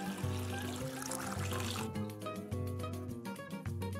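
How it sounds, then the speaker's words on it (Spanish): Water drains from soaked wheat through a colander in a home kitchen, a steady pouring trickle heard close, with a rhythmic low thumping beat underneath and no speech. "escurre el agua usando un colador y lávalo hasta que el líquido esté transparente"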